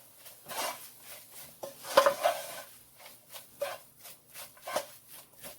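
Coconut tart filling stirred in a pot off the heat: a spoon scrapes and knocks against the pot in a steady, fairly quiet rhythm, with a few sharper clinks along the way and no talking.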